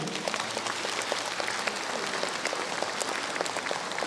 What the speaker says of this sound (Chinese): 有请王涛上场，掌声欢迎